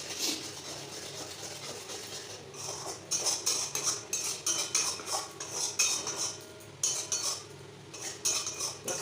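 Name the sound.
spoon stirring spice masala in pan for aloo dum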